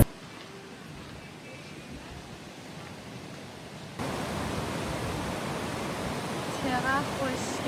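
A waterfall at a scenic spot in Thailand, heard as a steady broadband rush that grows louder midway as if coming closer, with faint chirps and a quiet voice or two in the background.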